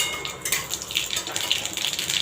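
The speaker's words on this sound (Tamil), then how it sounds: "கடுகு பொரியுது" Mustard seeds crackle and splutter in hot ghee, tempering for a pineapple rasam, a close, steady run of sharp pops and sizzles with faint clinks of kitchen utensils.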